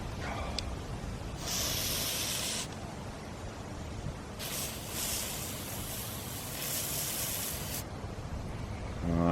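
Spray paint hisses from an aerosol can onto archery arrows being finished, coming in two long bursts, one short and one longer, close up with no talk.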